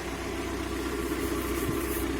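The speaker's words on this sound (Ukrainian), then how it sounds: "Мотор зараз працює." A Volkswagen Crafter van with around 290,000 km runs at idle, a steady low engine hum with faint vibration throughout, heard alone and fairly close.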